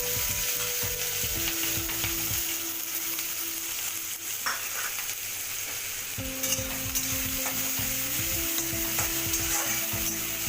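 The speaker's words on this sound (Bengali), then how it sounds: "দেখো পেঁয়াজটা হালকা ভাজা ভাজা হয়ে গেছে, লালচে লালচে হয়েছে একটু" Onions fry in hot mustard oil in a kadai with a steady, close sizzle. A spatula scrapes and stirs against the pan in repeated rhythmic strokes, and a faint mechanical hum runs underneath.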